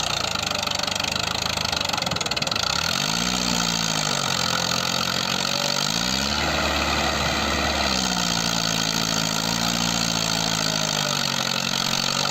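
A tractor engine runs in snow and mud by a frozen glacial river, a steady mid-pitched drone whose pitch rises and falls as it strains, loud and close with no talk.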